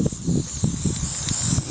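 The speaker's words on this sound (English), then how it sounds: "Having a quick spray of our SCJ, which is a cold joint sealer." Cold joint sealer sprayed from an aerosol around the edges of a pothole during road repair, a steady hiss lasting under two seconds with faint rustling.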